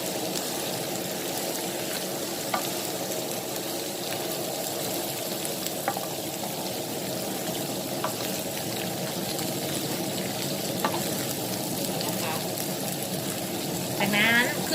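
Moonflower blossoms, baby corn and shrimp stir-fried in oil in a small pan, giving a steady close sizzle with light stirring clinks throughout, brief scraping near the end.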